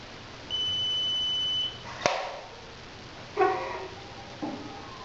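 A medication reminder device's alarm sounds a single steady electronic tone for about a second, followed by a sharp click as its top button is pressed and a couple of softer mechanical clunks as medicine drops.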